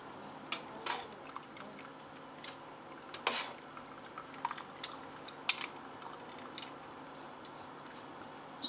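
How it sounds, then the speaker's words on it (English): Cooked rice vermicelli strained for satay bee hoon in a home kitchen, with scattered close clinks and clatters of utensils and metal cookware over a faint watery background. "First things first, strain out the noodles"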